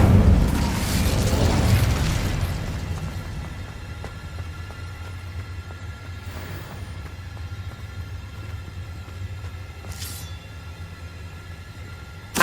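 An Incendio fire spell in Hogwarts Legacy bursts out as a loud, roaring whoosh of flame, then fades into a low rumbling game ambience with a few faint later effects.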